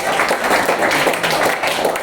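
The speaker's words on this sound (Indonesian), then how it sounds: "Kasih tepuk tangan." A classroom of students applauds a physics lesson with dense, steady clapping that fills the whole moment at close range.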